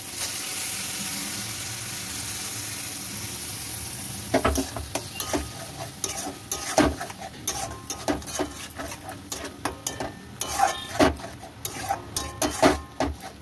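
Boiled, drained spinach drops into a hot pan of paneer and chilli and sizzles, then a spoon stirs and scrapes it with repeated clinks and clatters against the metal.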